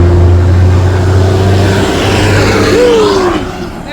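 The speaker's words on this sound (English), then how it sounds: "The traffic is crazy. It's a little loud. And they drive really fast." Loud street traffic in St. Thomas, US Virgin Islands, with a nearby car engine droning steadily and a fast vehicle rushing past before the roar fades slightly at the end.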